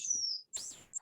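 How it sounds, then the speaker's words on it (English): An eastern phoebe gives short, bright, whistled call notes, close and clear against silence, with a few quick chirps separated by brief gaps. "That is the phoebe sound."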